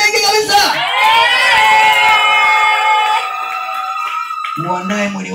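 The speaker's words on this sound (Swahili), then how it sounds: "Piga makofi mengi kabisa." A church congregation cheers, with sustained whoops and raised voices forming a loud, continuous crowd roar that briefly dips near the end before resuming.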